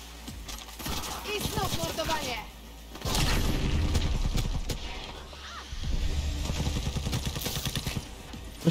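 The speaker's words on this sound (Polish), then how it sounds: "Coś tam wybuchło." Explosions and gunfire in Cyberpunk 2077 gameplay near a truck, broadband booms at about three and six seconds, each followed by a sustained rumble, with a voice talking through the combat.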